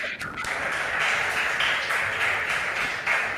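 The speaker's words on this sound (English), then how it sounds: "Please clap for them." Audience applause for a school quiz team at a regional junior high quiz contest: steady, dense clapping from a crowd filling the whole stretch at an even level.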